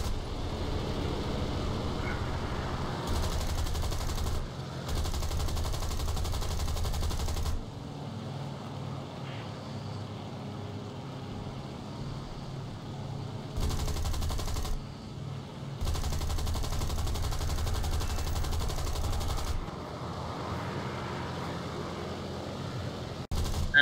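Aircraft machine gun fire in War Thunder from a Spitfire Mark I, several sustained bursts lasting a few seconds each, separated by pauses filled with a steady engine drone.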